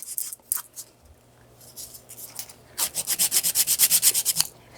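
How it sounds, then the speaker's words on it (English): Nail file rubbing along the side wall of an acrylic nail, a few scattered scrapes and then a fast run of regular rasping strokes, close and crisp. "Removing, just filing straight."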